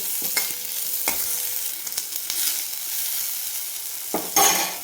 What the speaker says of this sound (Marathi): डाळ चांगली खरपूस भाजली की नंतर आपल्याला कांदा टाकायचा आणि ह्याला पण आपल्याला या तेलावरतीच परतून घ्यायचं